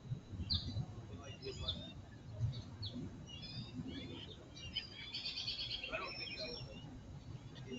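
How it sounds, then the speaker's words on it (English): Small birds chirp and tweet in scattered short calls, fairly faint, over a low rumbling background with no talk. "Just some lovely bird sounds."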